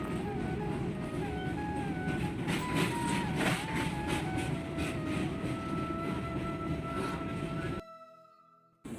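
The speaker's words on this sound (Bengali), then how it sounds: "রাতের মধ্যে দিয়ে ট্রেনটি এগিয়ে চলেছে আমাদের গন্তব্যের দিকে।" A train rolls along at night, a steady loud rumble of wheels and carriages with faint tonal squeals, continuous until it cuts off abruptly near the end.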